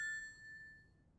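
Black rotary telephone in an anime setting gives a single bright metallic bell strike that rings out and fades away over about a second, fairly soft.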